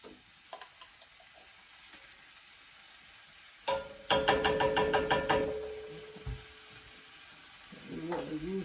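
Garlic hits a hot pan and bursts into a loud, crackling sizzle that fades over a couple of seconds. Quieter clatter and a lower sizzle follow near the end.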